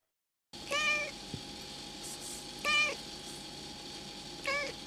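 A seven-year-old house cat meows three times, each call spaced a couple of seconds apart, moderately close against a faint steady background hum.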